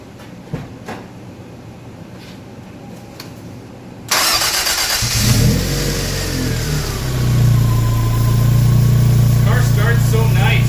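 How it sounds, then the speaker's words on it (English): Toyota MR2 with a new BEAMS intake built from 2JZ VVTi parts cranks and fires at about four seconds, then settles into a loud, steady idle close up, with a rising whine through the startup. "just for fun, I'm gonna do a quick startup. We'll see how she partakes to the new intake."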